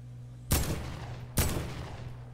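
Two sharp, heavy gunshot reports from a heavy assault rifle in Fortnite, fired about a second apart, each with a short booming tail over a low steady hum.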